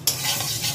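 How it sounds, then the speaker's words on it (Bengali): Moong dal being stirred continuously while dry-frying in a pan on a gas stove, a close, steady scraping and rustling with a soft sizzle, no voices. "ডালটাকে কিন্তু ভাজার সময় এরকম ক্রমাগত নেড়ে যেতে হবে"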